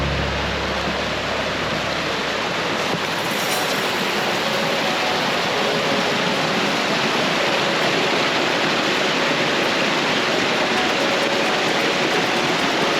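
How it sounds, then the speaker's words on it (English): Rushing water of a Catskills mountain stream on the Sugarloaf Mountain loop roars continuously and evenly throughout, a dense, steady wash of flowing stream noise with no voices. "by the sound of the stream"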